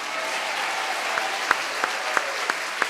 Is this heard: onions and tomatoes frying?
no